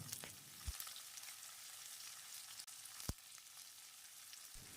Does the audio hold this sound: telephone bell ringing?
no